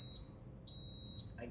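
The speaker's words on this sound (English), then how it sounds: "I can mute the beeping by pressing the down button" An iGard DSP ground-fault relay emits steady, evenly spaced high electronic beeps, about one every half second. The beeps are faint but clear over a low background hum.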